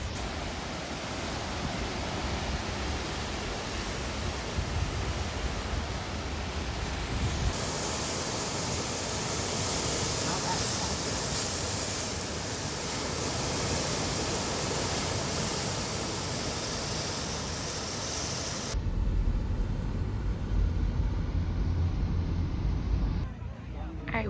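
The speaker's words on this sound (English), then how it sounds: "you can see the tide coming in and the water's really strong" Strong ocean waves roll in with the incoming tide at Thunder Hole in Acadia, a dense continuous roar of surf and rushing water with a rougher, closer burst near the end.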